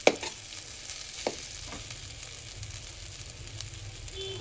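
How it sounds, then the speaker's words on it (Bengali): Salted fish and potato curry being stirred in a pan, with soft scraping strokes and a low steady sizzle of frying, no talk. "লবণ দেওয়ার পর কিছুক্ষণ নেড়ে নিয়েছি, একটু শুকনো শুকনো ভাব হয়ে গেছে।"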